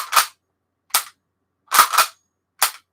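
Action of an antique bolt-action rifle about 130 years old worked off to the side, giving four sharp metallic clacks spaced unevenly over three seconds, the third a quick double, fairly close and clear with no talk.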